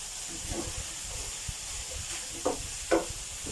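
Bite-sized chicken breast pieces sizzle and hiss in a hot pan while a utensil scrapes and stirs in a few quick strokes.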